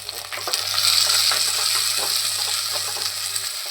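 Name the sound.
onions and tomatoes sautéing in a pan for Kerala fish curry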